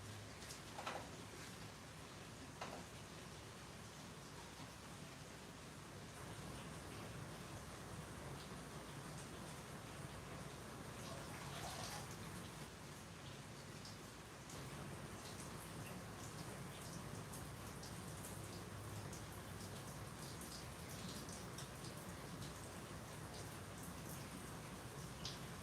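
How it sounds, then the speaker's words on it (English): A very light drizzle of rain falls steadily, a soft, even hiss of drops that continues for the whole stretch with no talking. "sounds like it's starting to let up just a drop. It is just a very small drizzle right now."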